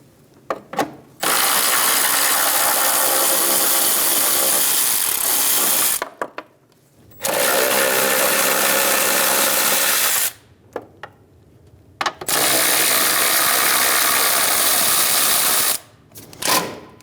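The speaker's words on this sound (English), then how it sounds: "Using a 13mm socket, we're going to remove the 1 bolt and 3 nuts for the battery tray." A 13mm socket ratchet loosens the battery tray bolt and nuts on a 2000-2007 Ford Focus 2.0L, clicking in rapid continuous runs of several seconds each, separated by brief pauses, close and loud.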